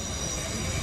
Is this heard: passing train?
yes